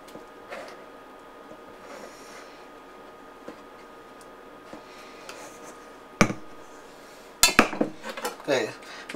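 Chopped salad pieces dropped into a bowl, soft rustles and light knocks that end in a few sharp clinks and clatters of a utensil against the dish, close and fairly quiet.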